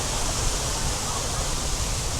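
Waterfalls at Disney's Animal Kingdom park produce a loud, continuous broadband rush of falling water, steady and unbroken throughout, with no distinct voices over it.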